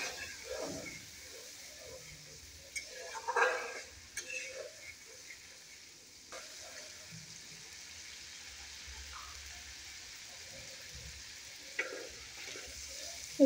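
Ground spices (turmeric, salt and coriander powder) frying in a pan for egg bhona are stirred, giving a faint, steady sizzle with a few scraping knocks of the spoon, quiet and close.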